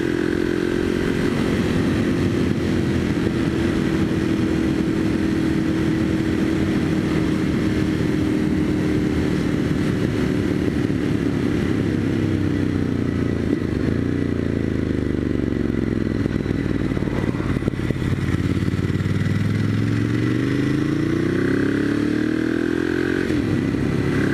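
A Ducati Monster 1100 Evo motorcycle engine drones steadily up close, then revs up and down a couple of times, the pitch rising and falling in long sweeps.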